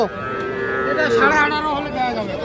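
A young heifer calf moos loudly and close up at a cattle market, one long drawn-out bellow rising and falling in pitch.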